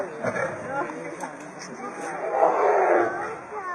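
Lions that have just caught a duck give low roars and growls, fairly close and continuous, rising toward the end, with voices partly mixed in.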